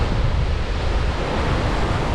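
Ocean surf breaks against a seawall at Guayaguayare, Trinidad, making a steady, loud, broadband wash of crashing water that never lets up, with wind rumble on the microphone and no voices.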